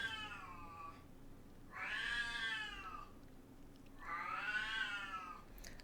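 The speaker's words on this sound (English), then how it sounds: "That kitty cat." A cat meows twice, two drawn-out, fairly close cries separated by a short pause, with a quiet background and no talking.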